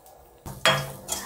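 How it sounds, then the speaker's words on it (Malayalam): Grated coconut roasting in a pan while being stirred, heard as a few sharp metallic clanks and scrapes of a utensil against the pan over quiet sizzling, with no talking. "നന്നായിട്ടൊന്ന് വറുത്തെടുക്കുക"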